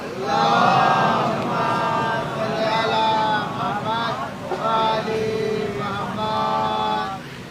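A congregation at a Bengali majlis chanting salawat together in response, a loud sustained mass of many voices in rising and falling waves throughout, filling the hall.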